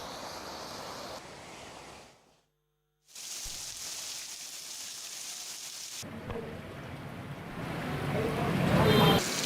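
Heavy monsoon rain pours during flooding in Bihar, a loud broadband roar that drops out briefly, then returns with a rising rumble like thunder toward the end.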